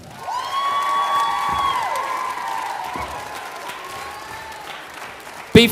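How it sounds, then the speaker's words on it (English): Audience applause and cheering at a taekwondo school's Christmas party awards ceremony, a sustained crowd roar with whoops and children's shouts, a few tonal calls over the top and a sharp loud burst at the end. "Give everybody a big round of applause."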